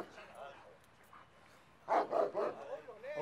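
A dog gives a few close barks in the second half, mixed in with people talking nearby.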